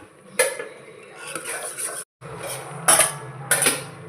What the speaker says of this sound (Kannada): ಹಾಲು ಹಾಕಿ ಹಾಲಿನಲ್ಲಿ ಬೇಯಿಸ್ತಾ ಇದ್ದೇನೆ ನೋಡಿ